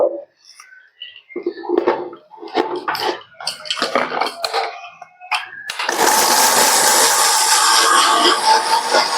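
Garlic and other ingredients ground into a paste in an electric mixer, which starts a little before the midpoint with a loud, steady whirring roar after clattering handling sounds and brief talk.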